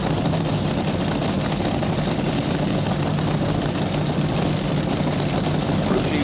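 A twin-engine nostalgia top fuel dragster, the Beatty and Lutz machine driven by Bob Beatty, rumbles in a steady, heavy low drone at the drag strip, loud and continuous with no voices over it.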